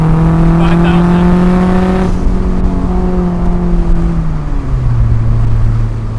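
A turbocharged car is floored from about 2,500 rpm, its loud, close engine note climbing steadily with audible drops at the gear changes.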